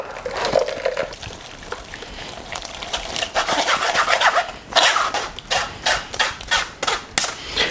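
Watermelon gazpacho is pressed through a sieve with a ladle, making repeated close scraping, rubbing strokes with a wet, slushy edge that come in a steady rhythm and grow more distinct toward the end, with no talking.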